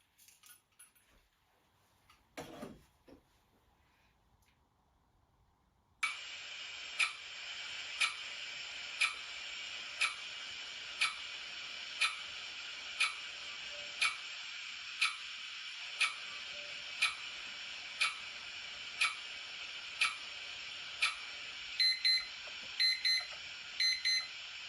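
A countdown timer ticks steadily and loudly, a regular pulse of bright metallic clicks about once a second that runs for around twenty seconds after a short quiet start, with no talking.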